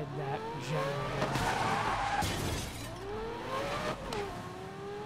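Lamborghini Gallardo driven in Need for Speed Most Wanted, a steady rising engine whine with gear shifts, tire skids and crash effects throughout.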